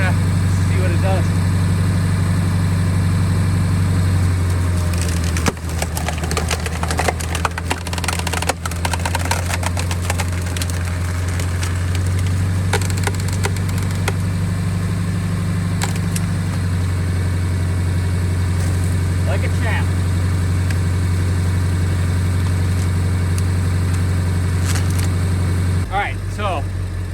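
A truck engine runs steadily at a revved pitch, powering a hydraulic log splitter working through knotty ash hardwood; the engine drone is loud and continuous throughout, with occasional clunks and louder bursts during the split.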